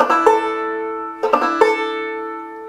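Open strings of a clawhammer banjo played in a Galax-style roll with no fretting. Bright plucked notes ring over a sustained drone, with two quick clusters of picked strikes close up.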